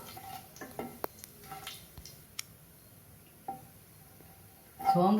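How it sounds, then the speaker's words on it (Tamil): Quiet, sporadic crackles and small pops of fennel seeds frying in hot oil, with a louder clatter of a utensil against the pan at the very end. "சோம்பு பொரியட்டும்."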